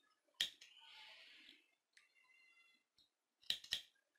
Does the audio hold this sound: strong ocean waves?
no